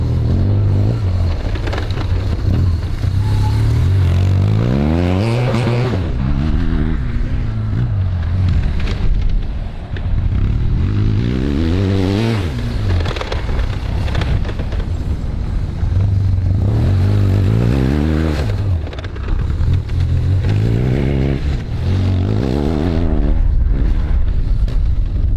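A BMW HP2 motorcycle engine is pushed high into the revs, loud and close, rising and falling in repeated sweeping pulls with a rough mechanical clatter underneath throughout.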